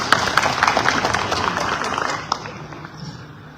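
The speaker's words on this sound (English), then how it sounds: "A round of applause for you." Audience applause at a presidential debate: a roomful of people clapping amid broad crowd noise, steady at first, then slowly tapering off with a few louder individual claps. Faint voices mingle in the background.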